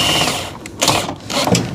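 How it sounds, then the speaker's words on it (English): Power drill winding down caravan stabiliser legs, loud close whirring bursts that stop and restart, with short mechanical rattles between the runs. "A little bit on the drill, obviously, makes life a lot easier."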